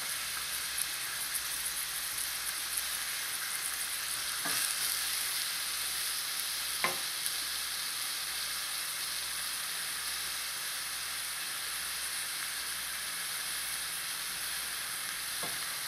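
Beef locro simmering in a pot, a steady close sizzle and bubbling hiss running unbroken throughout, with a couple of faint clicks of a utensil against the pot.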